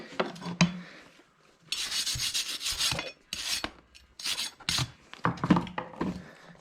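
A farrier works a brand new file over a horse's hoof, restoring it after laminitis: repeated close, gritty rasping strokes in uneven bursts, with short pauses between passes.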